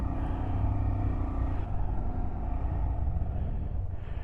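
A Honda Monkey motorcycle's small engine pulling away, a continuous close rumbling drone that holds steady for several seconds, with wind noise over it.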